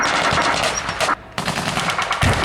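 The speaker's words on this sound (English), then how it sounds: "More heavy artillery." Rapid machine-gun fire rattles loudly at a Yorkshire wartime battle reenactment with tanks, in dense bursts that pause briefly before the shooting resumes, close and without talk.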